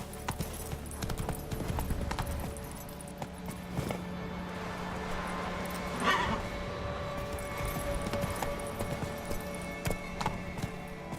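Roach the horse in The Witcher 3 gallops with a steady, rhythmic clip-clop of hooves throughout, moderately close, over faint game ambience and without any speech.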